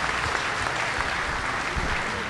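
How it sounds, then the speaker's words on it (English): Steady applause from a crowd at a Missouri State Fair sale of champions, dense clapping filling the space with a few voices under it. "Let's give Christina and her Grand Champion Pen of Rabbits another round of applause"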